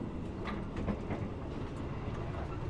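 Gajayana executive passenger train running, heard inside its new dining car: a continuous low rumble of wheels and carriage with faint rhythmic clatter, steady and enclosed.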